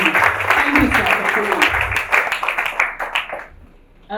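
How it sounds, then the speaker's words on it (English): Audience applause at an aviation careers conference, a burst of many hands clapping from a seated crowd in a hall, strong at first and then thinning and fading out near the end. "Please, a round of applause."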